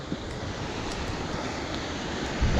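Steady broadband rushing of falling water, constant and fairly loud, with no voices.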